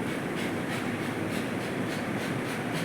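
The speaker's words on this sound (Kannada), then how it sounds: "ನೋಡಿ, ಇದು ನಂದಿ ರೈಲ್ವೆ ಸ್ಟೇಷನ್." Steady rumbling train noise at the old Nandi railway station, a continuous loud roar with faint rhythmic clatter and no voices.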